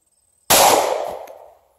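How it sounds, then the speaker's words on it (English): A single loud, close gunshot from a Glock 20 10mm pistol fired into expired 2004 Second Chance Ultima Level II body armor, a sharp blast that decays over about a second into quiet. "For this one, we're going to use the Glock 20. It's a 10mm."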